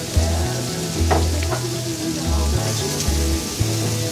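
Pork stir-fry with cauliflower and broccoli sizzles steadily in a hot pan, with a few clinks of stirring over low background music.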